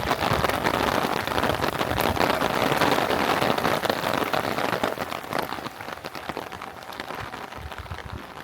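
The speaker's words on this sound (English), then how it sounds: "with the rain and the weather." Heavy rain pours outdoors on a wet day near Haikou Port in Taishan, China, a dense loud hiss with patters and splashes on surfaces close by that eases slightly toward the end, with no voices.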